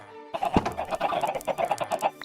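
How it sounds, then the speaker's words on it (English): Chickens clucking in the video game Minecraft, a run of short, close, busy clucks and squawks following a brief quiet start, with no voices. "we're going to lead our chickens up."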